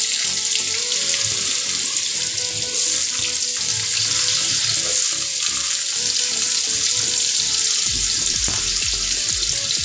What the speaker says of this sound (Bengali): সেই আলুটা এই তেলের মধ্যে দিয়ে একটু ভেজে নেব লাল লাল করে